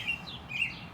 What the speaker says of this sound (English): What is better than a spring evening with the birds chirping like that?